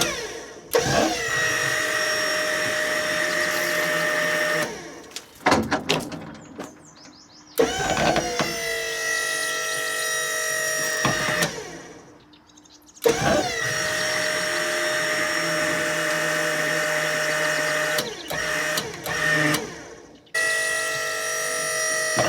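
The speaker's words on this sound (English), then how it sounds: "if I activate this, it should actually rotate that bucket" Hydraulic auto leveling bucket on a 1980 Skyjacker lift rotating, a steady loud whine of pump and motor running in several long bursts separated by brief pauses, no talk.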